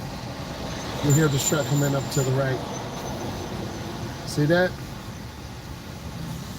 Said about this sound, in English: You hear this truck coming up to the right.